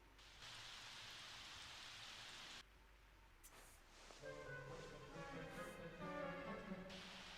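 Steady hiss of rainfall in The Sims, briefly dropping off then resuming, with a soft tonal music bed fading in over the later part.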